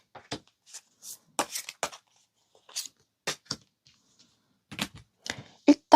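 Tarot cards are shuffled and drawn by hand in quick, close, papery riffles and snaps, coming in irregular bursts with short quiet gaps between them.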